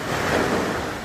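Surf rolling onto an Algarve beach in Portugal, a steady broad wash of breaking waves with some wind noise, continuous and fairly loud for the whole moment with no voices.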